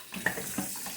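A kitchen sink tap splashes briefly while a whole chicken is rinsed before roasting, giving a short, close burst of running water with a couple of sharper splashes and no talking.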